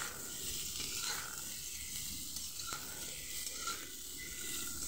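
Vegetables sizzling in a hot pan, a constant hissing fry with faint scraping as they are stirred, close and steady, no voices.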